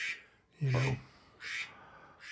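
A duck quacks several times outdoors, with loud, nasal, evenly spaced calls that rise clearly above a quiet background, and no talk is heard over them.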